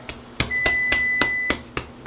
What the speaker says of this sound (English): Excuse me, timer.